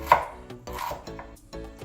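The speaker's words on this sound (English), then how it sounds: "So I chopped generously a lot of ginger just because I will have to use it for other dishes." Fresh ginger chopped with a knife on a cutting board in a home kitchen, a series of close, crisp knocks in an irregular rhythm, heard alone without talking.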